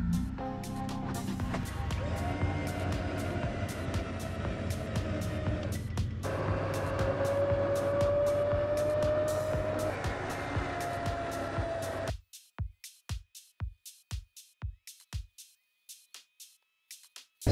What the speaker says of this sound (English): I'm going to have to start the vehicle and we're going to leave it in neutral and just pull it up so it's nice and tight on